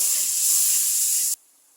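Spices sizzling in hot oil in a pan while cooking a pumpkin and small shrimp curry, a loud steady hiss close by that stops abruptly.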